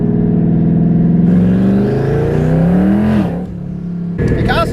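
Twin-turbo Ford Mustang with old tires accelerating hard, its engine note climbing through a loud, close rising rev with a brief drop around a shift and a screech of wheelspin near the end.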